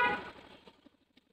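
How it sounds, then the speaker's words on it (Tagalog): Horn on a Yamaha Aerox 155 scooter sounds one loud, harmonically rich blast that decays over about a second, followed by a few faint short toots. "Busina."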